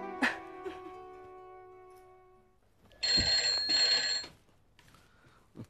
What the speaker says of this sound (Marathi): हा फोन ना आधी कुठल्या तरी सिनेमावाल्याकडे असणार. नको त्यावेळेस वाचतो